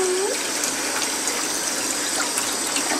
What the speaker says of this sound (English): I'm gonna put cold water on the cat.